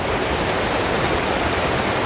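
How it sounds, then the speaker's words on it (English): A mini waterfall in Ella, Sri Lanka makes a constant loud broadband rush of falling water, close by with no talk. "This is a mini waterfall here."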